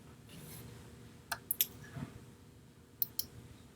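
Several crisp computer mouse clicks, quiet and close, come in small bunches with a pause between them.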